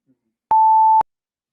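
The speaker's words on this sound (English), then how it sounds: "Obviously, the timer's going off" A timer goes off with a single loud, steady electronic beep lasting about half a second, clear and alone against silence.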